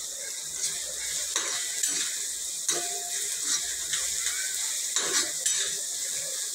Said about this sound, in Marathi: कांदा छान कच्चूस असा भाजून घ्यायचा आहे आपल्याला.